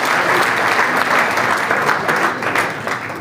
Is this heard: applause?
yes